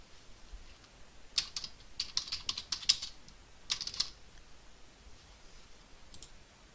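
Clusters of close, crisp keyboard typing mixed with computer mouse clicks, a few quick bursts of keystrokes with short pauses in a quiet room.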